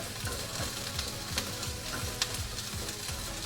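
Bell peppers stirred as they fry in a pan, a continuous crackling sizzle with soft repeated scraping strokes of a spatula, close and even, no talking.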